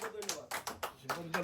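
A small gathering at a Hindu society birthday celebration claps for its president, a short burst of irregular hand claps with voices mixed in.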